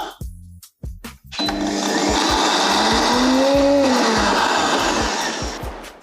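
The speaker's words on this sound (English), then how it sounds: "we've blended our cocoa beans" An Optimum 9200A high-power blender grinds cocoa beans: a few short stuttering pulses, then a loud steady motor roar that runs for several seconds with a rising and falling whine, close and alone.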